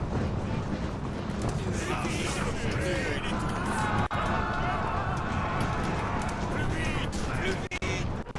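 A cavalry charge in Ultimate General American Revolution, with a dense, continuous rumble of galloping horses and battle noise filling the scene, plus a voice speaking over it.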